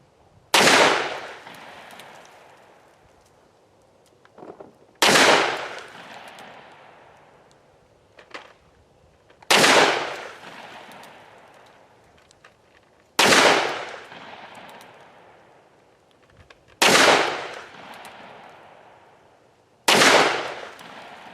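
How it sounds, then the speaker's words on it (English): Six loud, sharp gunshots from a Ruger Super Blackhawk .44 Magnum revolver, each with a booming decay, fired at a slow, even pace several seconds apart, with faint handling sounds between shots. "after you shoot the 44 Magnum"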